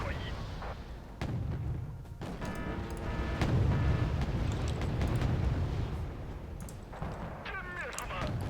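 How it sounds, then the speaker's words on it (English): Artillery barrage in the real-time strategy game Wargame Red Dragon: repeated booming impacts and blasts, some sharp and some rolling, layered over continuous battle noise at fairly even loudness, with a voice speaking in the mix. "Bloody hell, there's more artillery."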